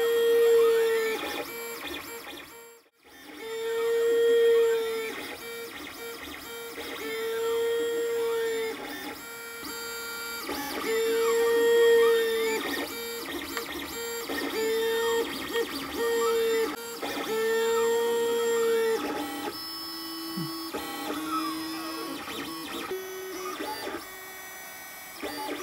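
A 3D printer runs steadily while printing parts at 125% speed, its stepper motors giving repeated tonal whines that rise and fall in regular bursts over a constant mechanical hum, close and clear with no talking.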